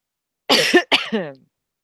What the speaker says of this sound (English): I'm still like coughing.